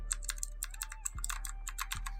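An Aula F2058 mechanical keyboard with blue switches is typed on up close, giving a steady run of crisp, sharp clicks over a low background hum.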